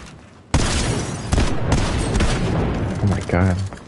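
Shotgun blasts and rapid gunfire in Fortnite, loud and dense, with a sharp burst at the start and repeated booming shots layered together, and a voice briefly heard near the end.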